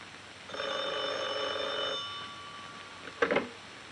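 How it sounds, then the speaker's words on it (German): An old telephone bell rings in a 1951 German film scene, one sustained electric ring of about a second and a half, followed by a brief clatter as the receiver is picked up in a quiet room. "Das Telefon klingelte nämlich."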